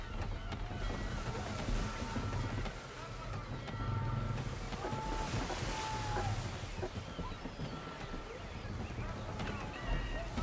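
Sailing ship on the open ocean in Assassin's Creed III, with steady water wash and creaking rigging sounds near the coast, and voices speaking over it.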